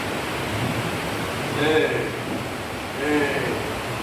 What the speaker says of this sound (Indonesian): Ini hujan lagi, bisa air naik lagi